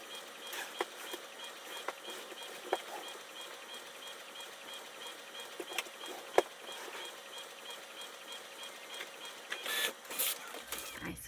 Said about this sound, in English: I'm going to send it to the printer, have the printer print it out